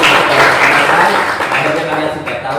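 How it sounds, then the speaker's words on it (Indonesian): A classroom full of students applauds in a dense, steady burst of clapping that stays loud and close for the whole stretch before tapering slightly. "terima kasih atas tepuk tangan untuk kita semuanya"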